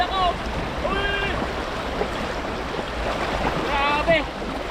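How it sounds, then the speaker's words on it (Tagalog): Strong river current rushes loudly and continuously, a broad wash of churning water close by, with a few shrill whistling or bird-like calls riding on top. "Nalubog eh. Lakas na tubig."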